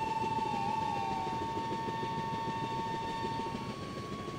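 A goods freight train rolls past in the Open Rails (MSTS) train simulator, a steady broadband rumble of wagons with a sustained tonal hum over it, fairly loud and continuous with no talking.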